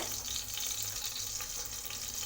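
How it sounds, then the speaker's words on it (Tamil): Green chili and mint leaves fry in oil for chana biryani: a soft, even sizzle that runs without a break, faint but steady, with a low background hum and no voices. "பச்சை மிளகாவும் புதினாவும் வதங்கிடுச்சு பாருங்க"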